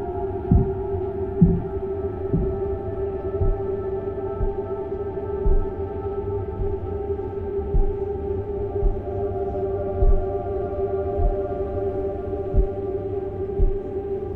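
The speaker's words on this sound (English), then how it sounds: "Are those footsteps? Or heartbeats? I think they're footsteps because they're coming from over there." Footsteps in the video game Anna come as slow, dull muffled thuds at irregular intervals, heard over a loud steady low drone and hum, with no talking.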